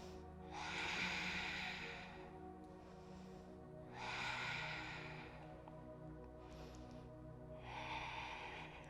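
Three slow, loud breath cycles at roughly four-second intervals, each a broad rushing exhale, taken while holding a yoga splits pose in a vinyasa flow, close to the mic over a steady low hum.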